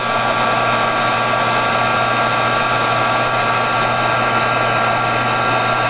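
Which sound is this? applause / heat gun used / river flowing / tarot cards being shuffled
heat gun used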